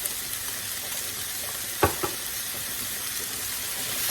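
Crushed garlic stirred into a pasta sauce in a pan, a steady close sizzle with one sharp knock and a couple of quick scrapes midway, no talking.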